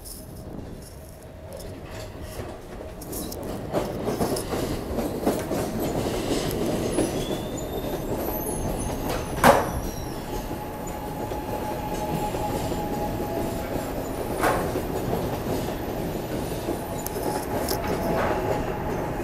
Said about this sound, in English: Frankford train taking all stops.